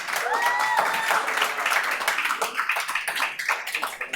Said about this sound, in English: Okay, please do not clap.